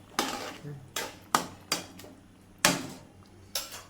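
Sharp metallic clinks and knocks of a spoon and lid against a cooking pot, five or six distinct hits spaced irregularly and close by, with banana flower being cooked in a village kitchen.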